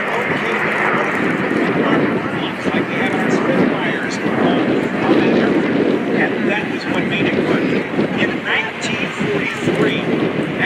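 Jack Aces airplane engine roaring past during a flyby at the 2024 MCAS Cherry Point Air Show: a loud, steady, broadband drone mixed with wind buffeting and a faint murmur of background voices.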